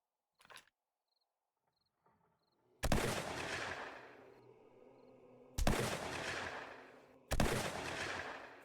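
Gunshots in the zombie survival game 7 Days to Die with the War3zuk AIO mod, three sharp, loud reports each trailing off in a long echoing decay, after quiet clicks and faint chirping ambience.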